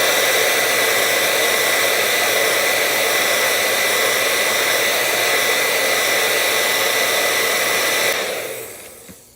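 Hair dryer blowing steadily and loudly on a paper craft tag for several seconds, a constant roaring hiss that cuts off abruptly near the end, with no voices.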